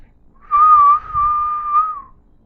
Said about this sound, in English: He would clap as well and whistle.